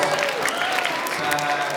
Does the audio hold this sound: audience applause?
yes